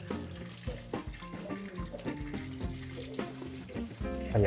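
Calamansi are rinsed under running tap water in a kitchen sink, a close, steady splashing and trickling with irregular knocks and rattles from the fruit and the bowl, and no one talks.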